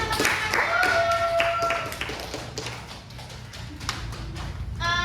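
Students in a classroom clap on cue, a rhythm of sharp, fairly close hand claps that thins out midway, with voices briefly chiming in over it.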